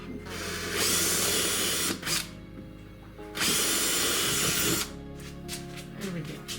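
A power drill whines loudly in two long bursts, biting into material, with a short pause and quieter mechanical rattling between and after.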